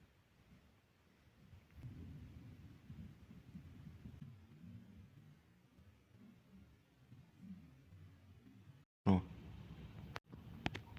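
Thunder during a late-season thunderstorm, a low, distant rumble rolling under faint background sound, followed by a brief louder burst near the end.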